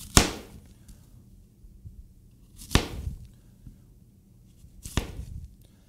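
Three sharp, separate knife cuts while slicing apples around the core, each a crisp chop against a board, spaced about two seconds apart with quiet in between.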